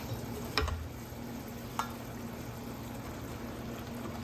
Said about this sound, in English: I'm going to stir in my cauliflower rice